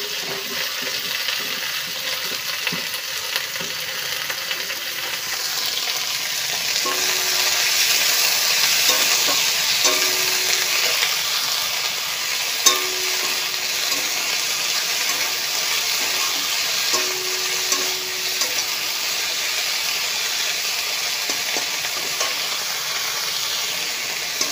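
Greens frying in a wok with onion and a dried chilli give a steady, close hiss and sizzle, broken by occasional stirring scrapes and soft clinks.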